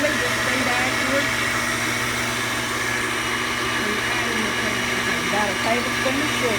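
An electric mixer running on high while sugar is whipped into egg whites for a lemon meringue pie, a steady droning whir with a constant motor hum, continuous and fairly loud.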